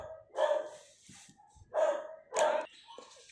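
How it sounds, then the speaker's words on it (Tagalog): A dog barks three times, each a loud, close, separate bark with short gaps between them, heard indoors where a dartboard is being unboxed, with quieter small noises in the pauses. "At merong nagtatatahol na aso."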